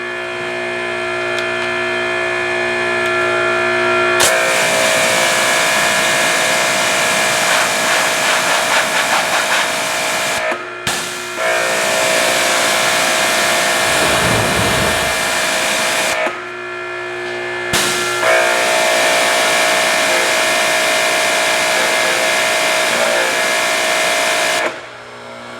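A Ryobi 2300 psi electric pressure washer fitted with a 15-degree nozzle sprays in loud, steady bursts, with hissing spray broken by three short pauses as the trigger is released and pulled again.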